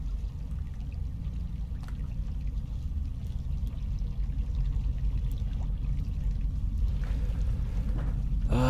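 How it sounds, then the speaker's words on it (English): Rain pours down in the video game Rain World as a dense, loud, continuous wash of falling water that stays steady throughout and swells slightly toward the end, with no talking. "This rain affects visibility so much."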